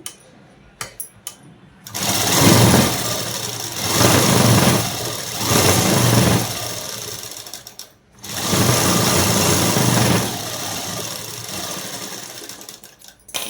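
A sewing machine stitching a folded fabric hem on a night dress, loud close whirring runs in several bursts separated by short pauses and a few clicks.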